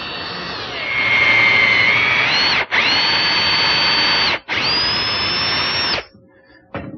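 A power drill bores a screw hole into the wooden post of a Windsor chair, three loud sustained whining runs with brief pauses between them, each rising in pitch as the bit spins up, then stopping.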